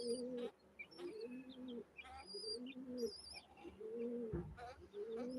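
Pigeons coo close by in repeated low, rolling phrases, with brief high chirps and twitters from other birds over them.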